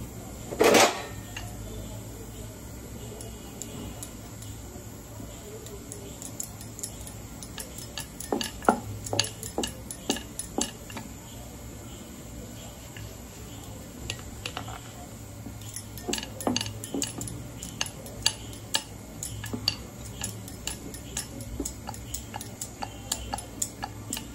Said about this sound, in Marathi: आता पुरणपोळी लाटून घेऊया आपण